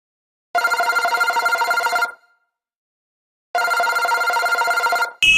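An electronic telephone ringtone plays loudly in two bursts of about one and a half seconds each, separated by a silent pause, with a sudden new sound cutting in at the end.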